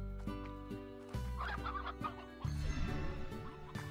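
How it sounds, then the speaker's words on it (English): Chickens in the video game Slime Rancher cluck in quick, fairly quiet bursts over a steady musical backing, with several short calls bunching together toward the end. "Here's some more chickens"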